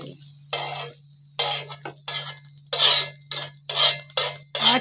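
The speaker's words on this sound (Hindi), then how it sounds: "फिर सादा ऑमलेट बनाएंगे।" Plain omelette cooking in a pan in a village kitchen, with a utensil scraping and stirring in quick repeated bursts over a soft sizzle, close and fairly loud.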